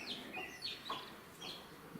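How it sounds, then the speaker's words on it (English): A hen clucks near a nest in short, scattered calls over steady background noise, with faint insect buzzing. "this silly little hen has just had a apoplectic fit."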